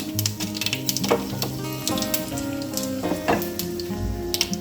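Dry red chillies and tempering spices fry in a little hot oil, crackling and sizzling steadily with scattered sharp pops and occasional stirring scrapes, close and fairly loud.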